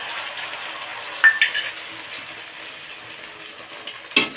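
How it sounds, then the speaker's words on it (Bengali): Beaten egg with salt fries in a wok under a soft sizzle while a spatula scrapes and clinks against the metal in a few sharp knocks, closest at the start and near the end. "কড়াইতে দিয়ে দিলাম ডিমটা।"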